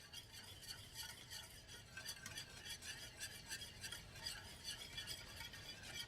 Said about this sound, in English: Whisk that in here.